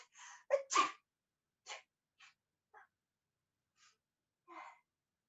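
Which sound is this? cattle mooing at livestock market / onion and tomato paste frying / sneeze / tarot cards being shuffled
sneeze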